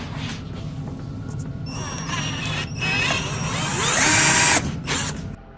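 A power drill bores holes for a front splitter on a Subaru Outback, with close, loud bursts of whining motor whose pitch climbs as it bites into the material, then cuts off.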